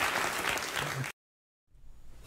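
Studio audience applause after booing, a loud burst of crowd clapping that cuts off abruptly into silence, then returns more faintly as a low murmur of hands.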